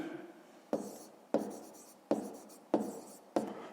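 Pen or chalk writing an answer for a fifth-grade math exercise, five short sharp taps or strokes spaced evenly, close and quiet, with no speech.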